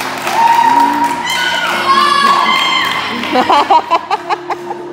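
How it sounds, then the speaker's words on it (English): A group of excited voices cheers and shouts at a quinceañera practice, with a run of sharp, rhythmic claps breaking out toward the end. "we're clapping because she's walking in"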